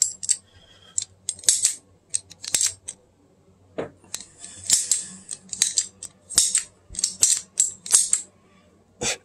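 Paragon Dreddlock Tanto two-tone folding knife, freshly cleaned and lubed, opened and closed repeatedly by hand: sharp close metallic clicks and snaps in irregular bursts, some in quick pairs, with quiet gaps between.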